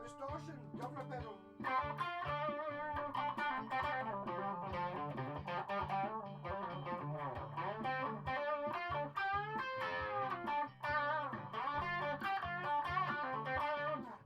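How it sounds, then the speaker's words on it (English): Electric guitar played through a Governor distortion pedal, a busy run of overdriven notes and chords, close and continuous after a brief quieter opening. "Distortion, governor pedal."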